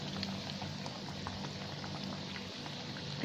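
Small Malabar coin pathiri fry in hot oil, a faint, steady bubbling sizzle with scattered crackles and no talk.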